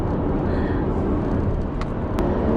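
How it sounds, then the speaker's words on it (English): A 2019 Subaru Forester 2.0i-S with a CVT gearbox drones steadily from inside the cabin while driving, a low continuous hum and road rumble with no talking. "You can hear that the engine, actually that's the gearbox."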